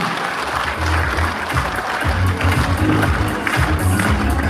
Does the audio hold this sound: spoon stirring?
no